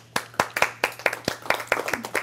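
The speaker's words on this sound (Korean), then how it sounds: "박수." A church congregation claps together at a QT seminar workshop, a brisk run of sharp, uneven claps close by with little talk.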